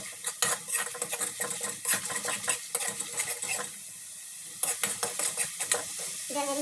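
Masala spices fry and get stirred in a pan for a matar paneer sabzi. A spoon scrapes and clinks against the metal over a bright sizzle. The strokes are close and repeated, pause briefly midway, then resume, with no voices.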